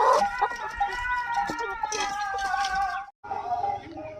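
Desi chickens cluck and squawk close by while a rooster crows in drawn-out calls, overlapping and fairly loud, with a brief silent gap near the end.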